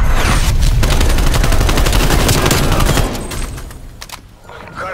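Artillery strikes from the Call of Duty Black Ops Cold War game pound in a dense, loud barrage of overlapping blasts and gunfire for about three seconds, then thin out into scattered, fading booms.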